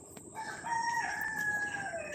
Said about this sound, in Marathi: सगळीकडे शांतता आहे कोंबड्यांचा आवाज येतो आहे